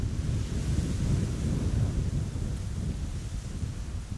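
Strong wind roars steadily at an airport on the Polderbaan runway 18R approach in Amsterdam, a dense low rumble with heavy gusting across the microphone, loud and unbroken with no voices.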